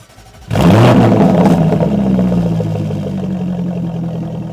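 Jaguar F-Type engine starts with a sharp loud burst, flares in a rev, then settles into a strong steady idle that slowly eases, heard close and alone.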